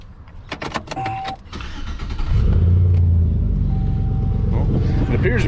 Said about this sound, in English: Let's fire the truck up and turn the blinker on